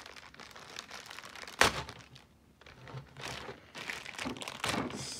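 Toy airplane packaging being torn open by hand: scattered plastic crinkling and rustling with one sharp, loud rip partway through, then more uneven crackling bursts close up.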